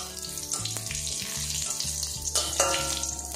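Panch phoron and a chilli hit hot mustard oil in a pan, giving a bright, continuous crackling sizzle close by, with low steady tones underneath.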